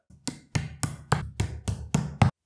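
Eight sharp, evenly spaced knocks ring out as the feet of an IKEA Malm dresser are tapped into their holes, each hit close, solid and woody, with no talking.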